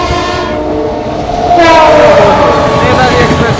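Netaji Express rolling past on the adjacent track as two trains cross near Sikanderpur, a loud, close, steady rumble of wheels with a drawn-out horn tone rising midway and continuing to the end.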